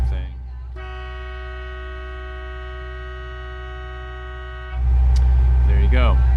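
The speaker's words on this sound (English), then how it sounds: "it'll blast the horn if you have to like signal to somebody" A sailboat's horn sounds one sustained blast of about four seconds, steady and tonal over a constant engine drone heard from inside the cabin, with a loud rush and a brief voice after it stops.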